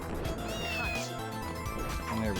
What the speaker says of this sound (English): we did hear a cat around here